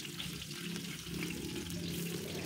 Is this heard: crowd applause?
no